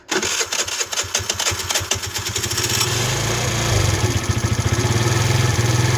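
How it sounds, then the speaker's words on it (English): A 4-stroke Chinese GY6 139QMB scooter engine cranks with rapid rhythmic chugs, catches and settles into a loud, close, steady idle. "we need to fire the bike up"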